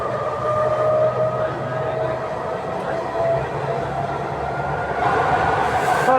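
An Athens metro and electric train ride toward Neo Faliro, with a continuous loud interior rumble and whining motor tones as the carriage moves along, briefly rising near the end.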